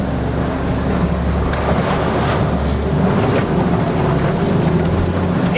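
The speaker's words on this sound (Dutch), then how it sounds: "Hier gaan we door het water." A 4x4 pushes through deep water on a Botswana safari, with continuous rushing and sloshing water over a low engine rumble and gusty wind buffeting, no voices.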